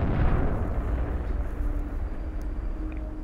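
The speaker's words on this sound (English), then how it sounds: "Oh, Earth is destroying." Rumbling, explosive roar of planet Earth being blown apart in the Solar Smash game, a loud, sustained low boom that slowly fades over a few seconds with no talking.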